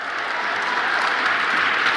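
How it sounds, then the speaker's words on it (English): A studio audience on a cable news show applauds in a dense, even wave of clapping that holds at a steady loudness for two seconds. "Let's clap for that"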